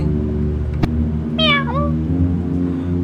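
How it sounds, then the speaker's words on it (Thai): A cat gives a single clear, close meow that rises and falls in pitch, heard over a steady low droning background with a brief click just before it. "totally normal cat"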